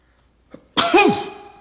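A person sneezing: a faint intake, then one loud, close, sharp sneeze burst, with the start of another right at the end.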